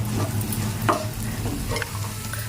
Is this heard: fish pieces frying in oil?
yes